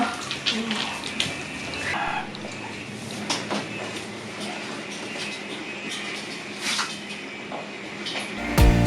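Water runs steadily at home while household pets are being bathed, a continuous rushing hiss with occasional louder splashes, fairly close and without clear talking.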